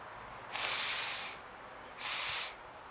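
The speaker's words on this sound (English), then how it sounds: "now I have to blow my nose, so just please excuse me while I grab a tissue here." A person blows their nose into a tissue twice, two breathy, hissing snorts roughly a second long each, close up in a quiet room.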